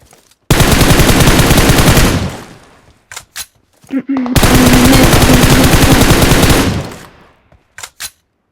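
Uzi submachine gun firing in a video game, two loud sustained bursts of rapid shots separated by a pause, with a few single sharp shots after.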